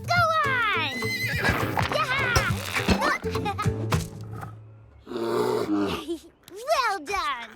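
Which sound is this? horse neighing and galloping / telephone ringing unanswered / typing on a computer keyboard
horse neighing and galloping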